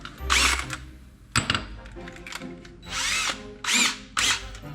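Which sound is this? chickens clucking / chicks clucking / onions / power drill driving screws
power drill driving screws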